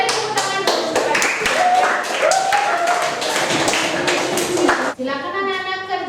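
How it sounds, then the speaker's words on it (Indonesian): A classroom of children claps their hands in unison to a rhythmic pattern, sharp repeated claps close by, with a voice and chatter mixed in before the clapping ends in a final burst. "Mari tepuk tangan dulu."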